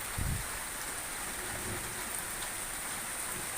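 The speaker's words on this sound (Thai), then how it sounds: "ฝนกำลังตกเลยครับ" Steady rain hissing across the whole span at Nong Nok Krarian, Thailand, a soft even wash with a brief low rumble near the start and no voices.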